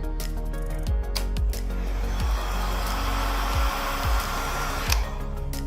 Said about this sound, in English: I'm gonna blow a little bit of heat on this.